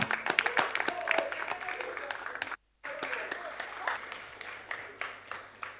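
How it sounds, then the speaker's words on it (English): Clapping from a live audience at a Talented Kids talent show, a steady patter of many hands honoring the judges, broken by a brief silent cut near the middle before it resumes. "A round of applause for our judges."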